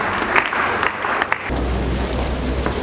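Mourners at a memorial tribute for a patriarch break into applause, a crowded burst of clapping that continues steadily through the short stretch while a low hum enters partway through.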